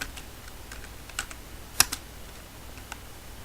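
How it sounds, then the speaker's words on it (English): Typing on a computer keyboard while building a table in Microsoft Word 2016: faint, sparse clicks with one sharper keystroke near the middle, over a quiet background hiss and no talking. "So now we are going to type Hotel 1"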